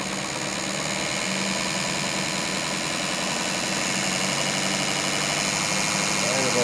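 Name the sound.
car engine running while checking distributor advance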